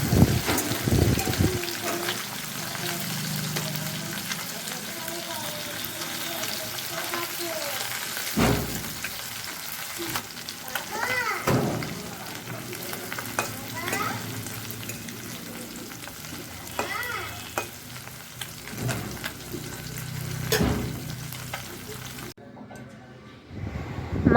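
Small puti fish fry in oil in a wok with a continuous soft crackling sizzle, broken by a few louder scrapes and knocks as they are turned over, then the sound cuts off.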